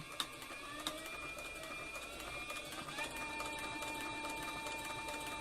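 A Cowboy CB4500 leather sewing machine stitching continuously at speed with an open toe presser foot, a fast, even mechanical whir with rapid needle ticking and a couple of sharper clicks near the start.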